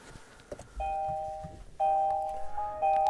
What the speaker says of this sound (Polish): Zamykanie, otwieranie i zdalne sterowanie.